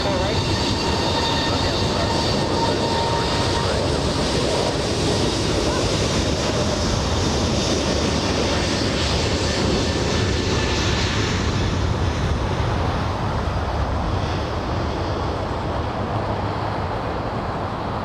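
A jet roars through its takeoff roll at LAX as a broad, steady rumble that holds for the whole stretch, loud and sustained before easing slightly toward the end.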